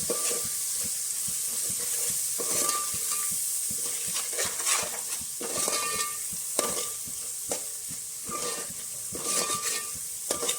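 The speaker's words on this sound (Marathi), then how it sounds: "भाजलेला खोबरा आणि कांदा यांचं वाटण केलेलं आहे तेलावर छान असं परतून घेऊ तेल सुटेपर्यंत" Roasted coconut and onion paste frying in oil for mutton curry, a loud continuous sizzle broken by repeated scraping strokes of a spoon against the pan, close and rhythmic throughout.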